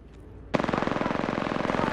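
Gunfire in a PS4 battle-royale shooter: after a quiet half second, an automatic weapon opens up suddenly and keeps firing in a fast, steady burst of close, loud shots until the end.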